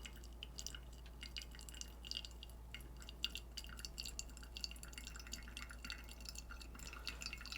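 Water drips softly and steadily through a pour-over coffee brewer, faint irregular droplets over a low constant hum with no talking.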